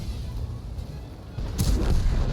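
A tank cannon fires in World of Tanks, a heavy low boom with a sharp burst near the end, over a steady rumble of in-game engine and battle noise.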